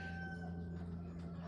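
Chickens cluck nearby over a steady low hum, with a few soft calls rising and falling across a short stretch.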